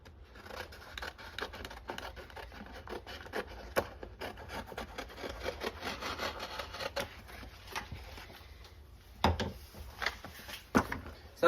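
A car taillight being wiped down by hand, soft close rubbing and scraping strokes that continue irregularly, with a few sharper knocks toward the end.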